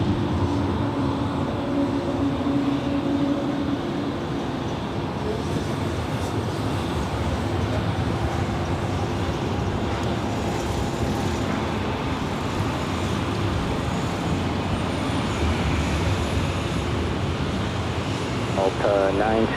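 A Delta jet rolls for takeoff on runway 24 left at LAX, heard as a continuous, broad engine roar that stays steady throughout, with air traffic radio voices over it.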